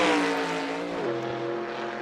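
Trans Am race cars roar past at Road America, a loud engine howl sweeping by with a falling pitch as the pack passes and fades, a steady hum trailing behind.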